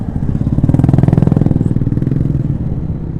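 A motorcycle rolls past on a landslide-damaged road near Matur, Bukittinggi, its engine a loud, close, rapid low putter that swells to a peak midway and then eases off as it moves on.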